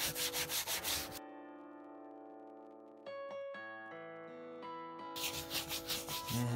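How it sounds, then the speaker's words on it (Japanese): A synthetic-fibre brush rubs a leather shoe in quick rhythmic strokes at the start and end, with a steady electronic musical tone in between. "こんな感じでブラッシングしていくと少しずつツヤが出てくるのがわかると思います。"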